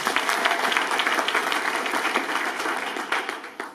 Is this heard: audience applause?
yes